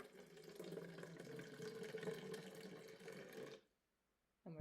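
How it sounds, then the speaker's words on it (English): Water pours from a rain bottle onto a small wetland model of soil, a steady close splashing patter for about three and a half seconds that then cuts off abruptly, followed by near silence and a brief knock. "we're just going to let that water rain onto our wetland"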